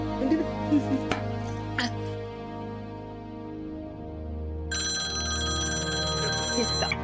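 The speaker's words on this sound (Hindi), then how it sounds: "किसका फोन आ गया?" A telephone rings steadily in a domestic scene, its repeating electronic tone starting partway through and continuing loud to the end, after some clatter and soft background sounds.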